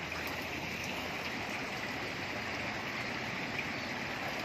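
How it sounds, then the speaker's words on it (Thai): Strong water gushes from a small road drain, a constant rushing flow like a stream, steady and unbroken with no voices. "น้ำไหลแรงมากนะครับ ก็ท่อระบายน้ำก็เล็ก"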